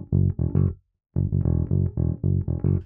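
A funky, syncopated country bass line for a chorus, played as short, punchy bass notes in a bouncing rhythm with a brief gap partway through, close and alone with no voices.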